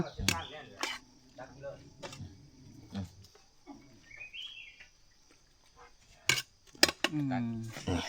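Bowls and dishes are handled in a home kitchen with several sharp clinks and clatters, sparse at first and then bunched near the end, among quiet background sounds and some birdsong.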